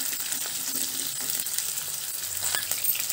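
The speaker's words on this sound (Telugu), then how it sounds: "2 ఆనియన్స్ ఇలా పెద్ద సైజు ముక్కలుగా కట్ చేసుకొని కొద్దిగా వేయించుకుందాము." Large-cut pieces of two onions fry in a pan for a tofu and green peas masala curry, giving a steady close sizzle with light stirring scrapes throughout.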